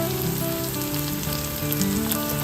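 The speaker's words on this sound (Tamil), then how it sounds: "பச்சை மிளகாயும் போட்டுருவோம்." Green chillies and sliced onions fry in a pan for vendakka pachadi, giving a close, constant oily sizzle with faint tonal sounds in the background and no speech.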